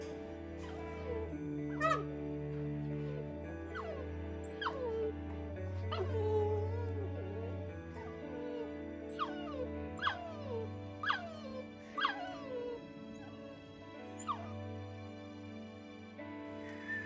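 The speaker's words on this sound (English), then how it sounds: "The puppies really wanted to play with the peacocks." Puppies at a ranch whimper and yip in repeated short high cries and squeaks over a sustained low droning hum, with peacocks nearby.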